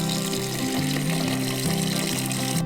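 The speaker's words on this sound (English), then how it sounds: "We're going to fill it up with water and we're going to boil it." Water runs from a tap into a pot holding balut duck eggs, a loud, steady rushing pour with a rising, gurgling fill that stops abruptly at the end, and no one talks.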